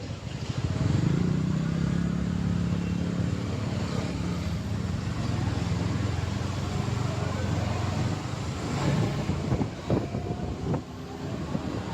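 A vehicle reverses and drives along a road, a steady engine drone with low rumbling tones throughout, rising briefly with a couple of sharp knocks near the end.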